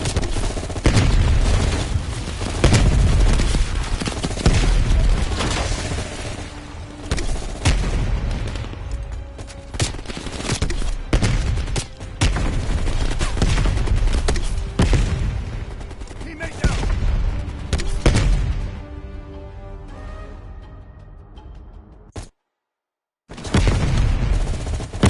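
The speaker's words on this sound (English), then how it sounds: "You readied a grenade launcher and charged it." A grenade launcher fires in a Call of Duty Cold War campaign firefight, with loud, repeated booming explosions and bursts of gunfire almost without pause, voices mixed in and a brief silence near the end.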